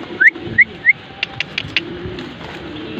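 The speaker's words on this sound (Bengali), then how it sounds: "হেলদি কবুতর, লাইট কালারের।" Light-coloured racer pigeons in a loft give soft, brief calls and coos, several short chirping notes near and clear over a quiet background.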